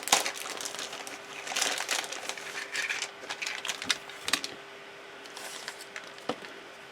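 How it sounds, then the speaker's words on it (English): Plastic packaging for Star Wars Vintage Collection Luke's X-Wing toy parts crinkles and rustles up close as pieces are unwrapped, in quiet irregular bursts of crackling with short pauses. "We'll unwrap all this stuff now."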